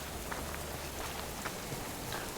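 Steady rain falling in the survival video game Subsistence, a dense continuous hiss of drops spread evenly throughout with no voices or other sounds.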